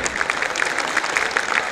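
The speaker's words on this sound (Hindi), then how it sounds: "जोरदार ताली हो जाए" Audience applause at a preschool annual day event on stage, a steady, dense burst of many hands clapping at close range for under two seconds, with no talk over it.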